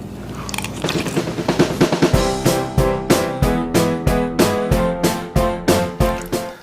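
Someone tastes homemade chicken vegetable soup with rice, giving a steady run of close, crisp bite-and-chew sounds at an even rhythm, with no talking.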